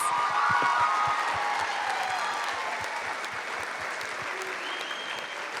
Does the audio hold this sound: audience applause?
yes